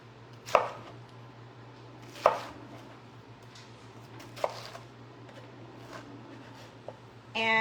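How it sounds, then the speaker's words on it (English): Fresh pineapple spears being cut into chunks with a knife on a board, three sharp isolated chops spaced a couple of seconds apart, then a softer tap and a brief clatter at the end, quiet surroundings. "I'm gonna take this and cut it up into chunks"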